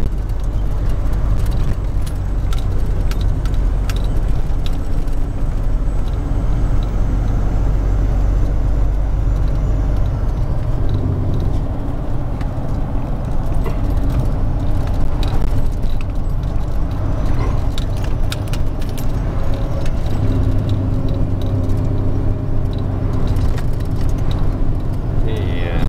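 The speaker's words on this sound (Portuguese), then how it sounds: "Vamos lá, caminhão. Mostra que você tem força." A truck labouring up a steep climb near Andradina, its engine a loud, steady low drone throughout with road and rattling noise, while a person talks over it.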